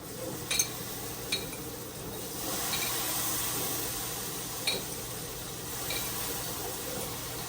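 Pickled onions sizzling and crackling in a hot pan while a snack is cooked, a steady frying hiss with a few sharp pops near the start and midway, no talking.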